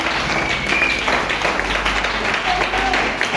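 A church congregation applauds and cheers in steady, dense clapping with crowd voices throughout, filling the space at a constant loud level.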